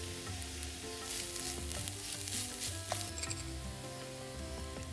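Grated coconut and turmeric sauté steadily in a pan, a continuous close sizzle with soft stirring scrapes layered over it and no voices.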